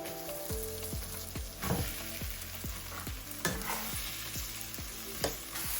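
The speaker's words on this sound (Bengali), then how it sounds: "সব কিছু খুব ভালো করে মিশিয়ে নিচ্ছি" Boiled potatoes with sugar and black pepper powder frying in a pan, stirred with a spoon that knocks and scrapes at a steady rhythm of repeated strokes over a constant close sizzle, with no voices.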